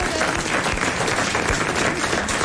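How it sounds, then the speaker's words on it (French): Loud, dense studio audience applause on a French television show, continuous clapping at full strength throughout with no voices breaking through. "Et vous allez l'applaudir immédiatement."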